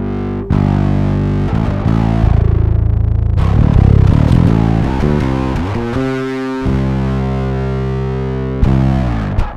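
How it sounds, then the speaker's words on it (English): Electric guitar run through a Biyang Mouse rat-style distortion pedal, paired with an ATK five-string bass fitted with a Lace pickup, giving a loud, thick, fuzzy tone; sustained chords and riffs played continuously with brief changes and no talking. "Or I'm guessing this one is a ratt pedal."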